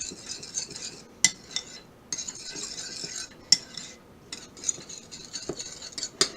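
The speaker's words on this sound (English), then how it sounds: "And then we'll actually stir this up for a second." A utensil stirs baking ingredients in a bowl, giving steady scraping and swishing strokes broken by brief clinks against the side, close and fairly quiet with no voices.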